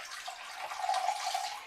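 Rhubarb-infused gin juice is poured from a container into a jug, a soft, close trickling splash that swells slightly toward the middle, with no voices.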